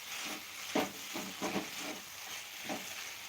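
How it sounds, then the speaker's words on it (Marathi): Sabudana (sago pearls) sautéed in a pan for khichdi gives a quiet, steady sizzle broken by several soft scraping stirs of a spatula. "एक दोन मिनटासाठी परतून घ्यायचा साबुदाणा"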